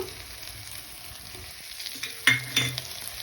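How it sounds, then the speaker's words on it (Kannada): Onion and homemade chilli powder dry-roasting in a pan without added oil, a faint low sizzle with a few sharper scrapes and clinks of stirring near the end. "ಇರೋದ್ರಲ್ಲೇ ನೀಟಾಗಿ ರೋಸ್ಟ್ ಮಾಡ್ತಾ ಐದರಿಂದ ಹತ್ತು ನಿಮಿಷ ಬರೋಣ"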